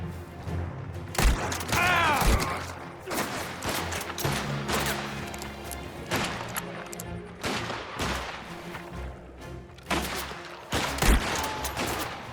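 Rapid bursts of gunfire and sharp impacts in the video game Mafia: The Old Country, with loud shots in clusters and pauses between them, and someone speaking over the action.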